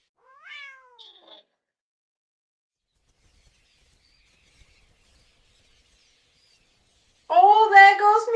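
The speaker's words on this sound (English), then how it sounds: "Oh, there goes me cat." Cat meowing in a quiet room, a short rising meow followed by a small chirp, then silence, then a longer loud drawn-out yowl near the end.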